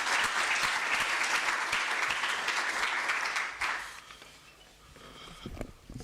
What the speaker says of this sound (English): A round of applause for Ms. Ntombela.